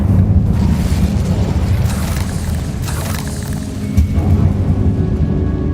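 A fire spell blast from the video game Hogwarts Legacy roars as a loud, dense burst of rumbling noise. It holds steady for several seconds, with a brief swell near the end.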